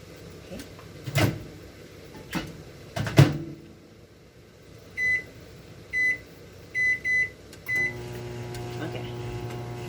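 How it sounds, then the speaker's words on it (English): A microwave oven hums steadily through a 1-minute cook after a few door and handling clunks, its keypad beeping several times before the running drone settles in. "I'm going to put it in the microwave for 1 minute"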